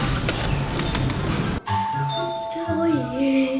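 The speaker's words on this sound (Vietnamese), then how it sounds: "chị đang chuẩn bị bấm chuông kìa" Doorbell at a home's front door sounding a clear electronic chime: a short opening tone, then a ding-dong melody with ringing tones, heard close and loud above light background noise.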